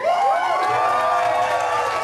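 An audience at a convention concert cheers and applauds, a steady wash of clapping and whoops held at even loudness, with a high tone ringing over the crowd.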